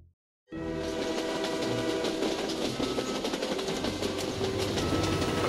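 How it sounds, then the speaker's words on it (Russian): A train rumbles in loudly after a brief silence, a steady metallic roar with clacking wheels and squealing tones that continues throughout. "Поезд прибывает на конечную станцию."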